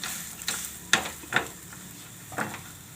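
Rava snack stuffing being mixed in a pan on the stove, giving a few soft scraping stirs and light clicks of a spoon against the pan, close and quiet, with no one talking.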